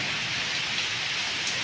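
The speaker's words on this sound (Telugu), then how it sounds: "సర్ప్రైజ్గా సాయంత్రం వాన వచ్చింది" Evening rain falling steadily, a soft even hiss of drops on surfaces, continuous and fairly faint, with no voices.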